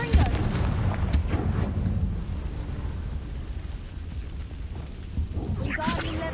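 A Confringo blasting spell goes off in Hogwarts Legacy on PS5 as a deep, rumbling explosion. The low boom rolls on steadily and loud, with a sharp crack near the start and a second burst toward the end.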